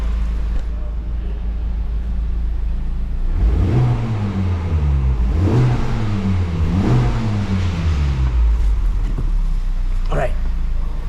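Loud idling rumble of a Honda Civic Type R FL5 engine, then in sport mode a series of sharp revs climbing and dropping in quick succession before settling back to idle.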